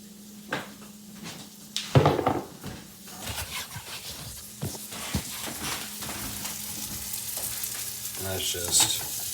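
Onions for a mirepoix fry over high heat for a keto tuna casserole, giving a steady crackling sizzle under repeated stirring scrapes and occasional clunks of utensils against the pan, heard up close with no one talking.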